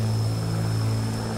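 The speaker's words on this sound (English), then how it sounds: "Now we got proper engine sounds." Steady propeller drone of a BlackSquare Commander 114 single-engine plane cruising in a flight simulator game, with a constant hum and a high whine layered on top and no voices.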